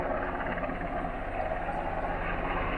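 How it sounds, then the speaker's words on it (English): A Coast Guard helicopter hovering just outside a marina, its steady rotor drone rumbling continuously, fairly loud and close, with no voices present. "We've got Coast Guard helicopter"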